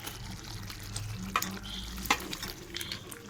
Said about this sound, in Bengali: সব ঢেলে দেওয়া হলো, আস্তে আস্তে নাড়াবো।